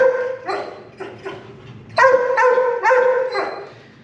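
A dog at a doggy day camp barks repeatedly and loudly nearby, a series of sharp yapping barks in quick bursts with short pauses between them, no talk over them.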